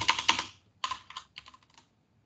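Computer keyboard typing arrives as three short bursts of quick, crisp key clicks, close and clear, with near silence between them and no talking.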